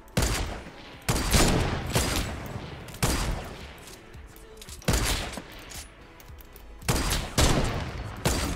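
Semi-automatic rifle fire in the Fortnite battle royale game: loud, sharp bursts of shots repeat at roughly two-second intervals, each ringing out briefly before the next volley.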